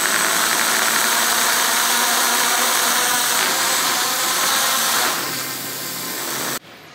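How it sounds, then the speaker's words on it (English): Small motors on a DIY mini quadcopter spin up during MultiWii ESC calibration, giving a loud, steady high-pitched whine with no speech that holds for several seconds, dips slightly, then cuts off abruptly near the end. "So I'm going to go ahead and spin up the motors."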